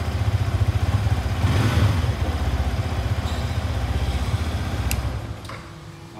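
A Yamaha FZ V1 motorcycle with a modified exhaust idles and revs with a throaty exhaust burble nearby, fading slightly toward the end.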